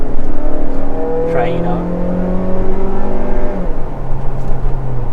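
A 2019 Mazda 3 hatchback engine revs loudly in sport mode, its pitch rising and falling in a steady drone, while people talk over it.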